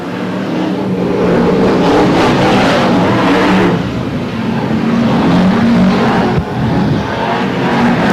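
BriSCA F1 stock cars racing at Long Eaton in 1991, a loud continuous roar of several engines that rises and falls as the cars pass, with no voices.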